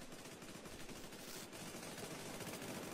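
Rapid automatic gunfire from a team-fight video game rattles on continuously, a dense stream of quiet, overlapping shots with no talk over it.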